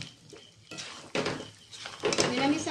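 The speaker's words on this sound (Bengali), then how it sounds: "তরকারিটাকে ভালো করে মশলার সঙ্গে নাড়িয়ে চাড়িয়ে নিতে হবে" Ladle scraping and clanking in a pan as potato curry (Kashmiri aloo dum, no onion or garlic) is stirred with spices; uneven bursts of metallic scraping close up, growing busier toward the end.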